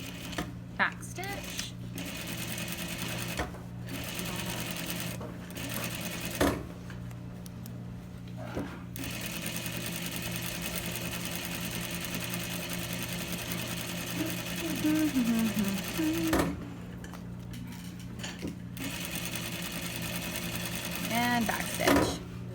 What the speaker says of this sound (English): start here, backstitch, sew as low as I can go and backstitch